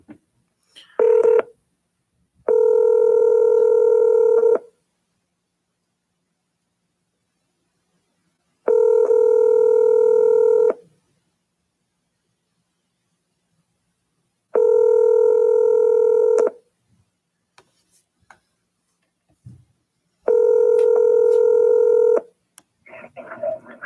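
Telephone dialing tones sound in four separate long bursts, each a steady loud tone lasting about two seconds, with silent gaps between and a brief click near the start.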